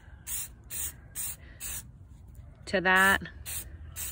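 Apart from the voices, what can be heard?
spray paint can spraying a light coat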